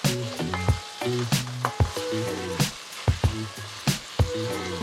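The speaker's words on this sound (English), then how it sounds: "Give it a good stir." Tofu stir fry sizzling in a hot pan with chili sauce, a steady crackle broken by repeated sharp scrapes and clanks of stirring, close and fairly loud with no voices.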